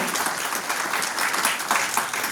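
An audience at a Kannada literary talk bursts into applause, a dense, continuous wash of many hands clapping, fairly loud and filling the room, with no speech over it.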